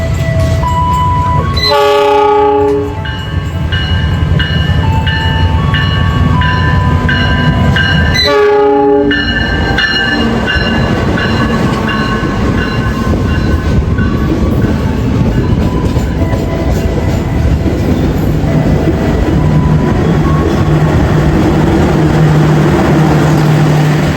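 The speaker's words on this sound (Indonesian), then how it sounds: "ini kereta kita, kereta Cikuray kita sudah datang nih" The Cikuray passenger train rumbles close by as it pulls into the station, its horn blaring twice over heavy rolling wheels and clatter that slowly eases.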